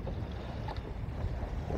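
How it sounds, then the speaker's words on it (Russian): A Vikhr 20 outboard motor runs on a boat on the Kama river in early season with a strong wind blowing. There is a steady low drone mixed with rushing wind noise on the microphone. "Мотор у меня завелся, кстати, после зимы со второго потяга."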